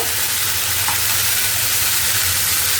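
Mixed vegetables sizzle steadily in a hot pan with turmeric and coriander powder while being stirred, giving a continuous bright frying hiss with a low rumble beneath and no pauses.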